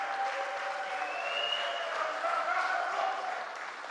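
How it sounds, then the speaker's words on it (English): Spectators applaud a Brazilian para shooter at the WSPS World Championships in Lima, mixed 50m rifle prone SH2 final; steady, moderately loud clapping from a crowd fills the whole stretch, with faint background tones. "A big applause for the Brazilian"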